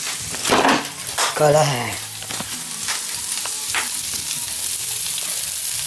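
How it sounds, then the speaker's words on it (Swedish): Food frying in a pan on a home stove, with a steady broadband sizzle running throughout, a few stirring and utensil clatters early on, and a person speaking briefly near the start. "Nu har det stekt ordentligt."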